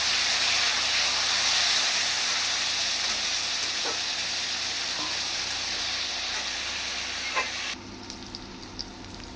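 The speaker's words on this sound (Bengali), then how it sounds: "দেখুন আমটা আমি ভেজে নিয়েছি, আধা ভাজা হবে" Mango pieces coated in salt and turmeric fry in hot oil, a steady loud sizzle with a few stirring clicks, easing to a quieter crackle near the end; no talk.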